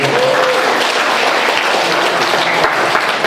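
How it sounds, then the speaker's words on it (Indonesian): Church congregation at an Abbalove Kelapa Gading service claps together for a short burst, loud and dense with no voices over it. "tepuk tangan dulu Asyar."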